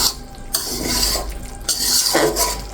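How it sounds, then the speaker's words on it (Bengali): A spoon stirs shol fish curry (tel jhal) in a pan, giving scraping, clinking strokes against the metal with a light sizzle underneath, in two or three bursts of stirring. "এখন একটু নেড়ে ছেড়ে দিচ্ছি।"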